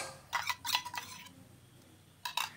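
A spoon stirs yogurt into warm milk in a bowl while making mishti doi, with a few faint scraping clinks in short bursts, a pause, and then another brief stir, with no voices.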